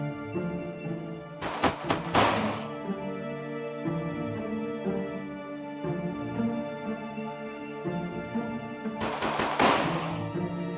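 A Bul Armory SAS II pistol fires in a timed shot group drill: two rapid strings of loud, sharp gunshots, one early and one near the end. A long stretch of quieter range ambience lies between them, and no one speaks.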